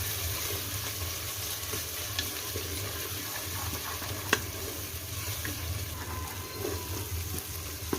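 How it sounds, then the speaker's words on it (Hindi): Spices and finely ground green chillies fry in oil, producing a steady, even sizzling hiss with an occasional faint click or tap from the pan, close-up and continuous with no voices. "अब इसको 1 से 2 मिनट के लिए हम भूनेंगे मसाले ऑयल में"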